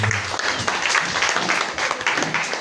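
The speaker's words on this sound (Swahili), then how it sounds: "Pigie Bwana Yesu makofi." A church congregation applauding together, a dense, sustained roar of many hands clapping that fills the room, with faint voices mixed in.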